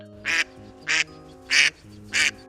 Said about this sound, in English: And here's the female duck sound.